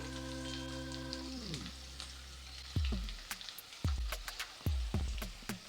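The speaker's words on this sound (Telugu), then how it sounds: "పచ్చి వాసన పోయే వరకు ఇలాగా ఫ్రై చేసుకుంటూనే ఉండాలండి" Onion and chili paste fries in hot oil in a pan for mirchi fry, a soft steady sizzle under a low hum at first, then punctuated by several sharp scraping and stirring knocks close by.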